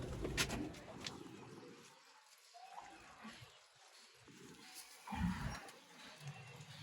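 Sialkoti pigeons cooing in low, soft bursts, with a prominent coo near the end, over faint background chatter, splashing and rustling.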